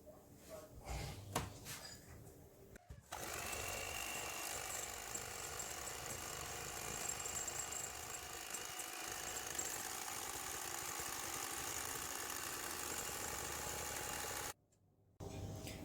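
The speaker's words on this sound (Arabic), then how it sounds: "من بعد ما خفقت البيض مع السكر كما كتشوفوا" An electric mixer whisking eggs with sugar for a cake: after a few seconds of quieter handling it starts abruptly into a steady, loud whirring drone, drops out briefly near the end, then resumes.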